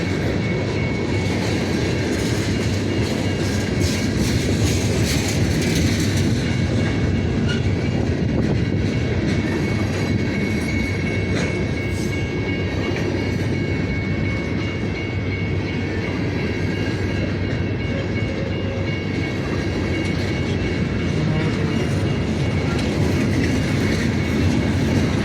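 VIA and CN trains roll past in Brockville, a continuous loud rumble of rail cars with rhythmic wheel clatter and faint metallic squeal lasting the whole stretch, with no voices.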